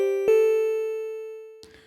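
A single delicate, bright wavetable synth note from Arturia Pigments rings out steady and pure after a soft onset, slowly decaying over nearly two seconds, with a faint click near the end.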